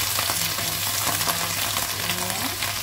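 Enoki mushrooms stir-fried in a wok over high heat, a loud continuous sizzle with scraping stirring strokes throughout, no talking.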